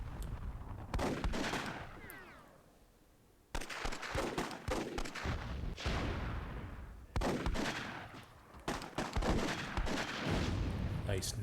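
Grenade blasts and gunfire in a WWII-themed match of the video game Myth II Soulblighter: a steady run of loud, sharp shots and booming explosions, several big bursts separated by short lulls, with no talk.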